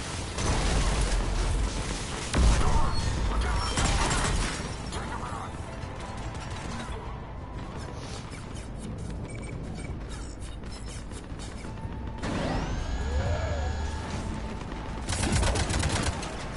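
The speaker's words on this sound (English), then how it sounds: "Cannons initializing." Heavy cannons in the Mass Effect 3 Omega DLC power up with mechanical ratcheting and whirring, then fire in loud booming bursts, with rising electronic tones and layered game effects throughout.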